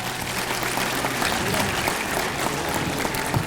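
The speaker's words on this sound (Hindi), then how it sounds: "A big round of applause for anybody and everybody who's present in this auditorium" Broad, continuous applause from a large audience filling an auditorium during a university career development session, steady and dense throughout with speech mixed in.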